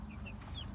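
Backyard homestead flock of mixed chickens, including silkies, Marans and a blue Cochin rooster, heard at a distance as soft, faint clucking over a low, steady background murmur.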